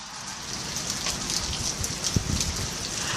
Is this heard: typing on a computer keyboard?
no